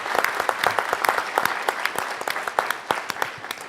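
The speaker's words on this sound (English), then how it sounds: "So in his absence, give Elihu a round of applause," An audience at a lecture series applauds. Many distinct hand claps blend into steady, fairly close applause that holds at an even level throughout.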